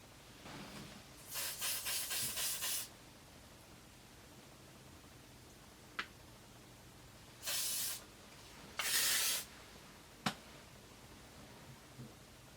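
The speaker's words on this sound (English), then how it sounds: "and then spray the crapola out of it" Hairspray from an aerosol can hisses in several bursts over set, brushed-out vintage-style hair, including one long pulsing spray and shorter blasts, with small clicks between them.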